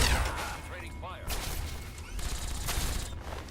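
Bursts of gunfire trade back and forth in Fallout 3's wasteland combat, loud and dense with crackling shots and crashes, over a steady game din with voice chatter mixed in.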